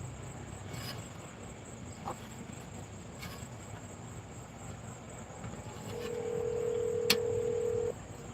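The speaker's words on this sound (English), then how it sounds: "let me dial him and see if him answer" Telephone dialing during a live call-in radio politics program: a steady tone hums for about two seconds near the end, with faint clicks and a low background hum, and no talk over it.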